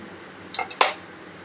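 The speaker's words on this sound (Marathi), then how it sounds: "आणि त्याला चांगली ढवळून घ्यायची" Metal spoon clinking against a pot while chana dal is stirred, a few quick scraping clinks over about half a second, close and fairly soft, with no voices.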